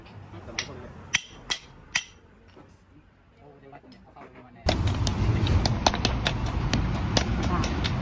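A hammer drives a hub and sleeve onto a broken drive shaft that has been cut and rejoined in a repair. Four sharp, separate blows are followed by a louder stretch of workshop noise with more rapid strikes and talk.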